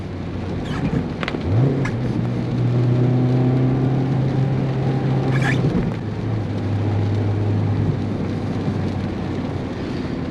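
A 2023 Mazda Miata with a manual transmission shifting into third, heard from inside the car: a few clunks as the gear engages, then a steady engine drone whose pitch rises and holds over constant road and wind noise.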